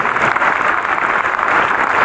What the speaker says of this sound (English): And no, please applaud.